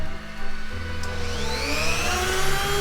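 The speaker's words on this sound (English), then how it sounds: "Now we're going to turn on the Dremel" A Dremel rotary tool on a homemade DIY CNC machine spins up with a steady motor whine that rises in pitch over a few seconds, close and continuous with no talking.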